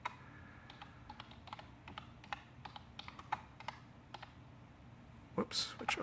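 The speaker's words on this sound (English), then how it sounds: "That's what I get for trying to type with one hand." Someone types with one hand on a computer keyboard, sparse uneven key clicks tapping close by over a low hum, a louder clatter of keys near the end.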